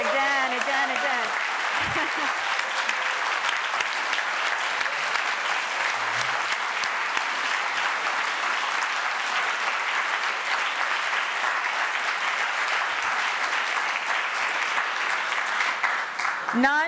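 Sustained, dense applause from a large crowd, clapping steadily for the whole stretch without letting up.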